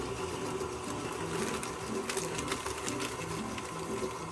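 Electric mixer running on low speed while cake mix is added to creamed key lime bundt cake batter, a steady close motor whir with faint scraping and rattling throughout.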